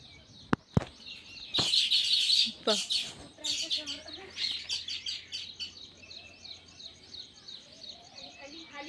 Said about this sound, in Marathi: ह्या चिमण्या अशा वेगळ्याच वाटत आहेत